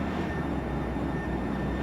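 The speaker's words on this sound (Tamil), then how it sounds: "ட்ரெயின் போகுது." A train in a video game rumbles past with a steady, loud, dense roar, unbroken throughout.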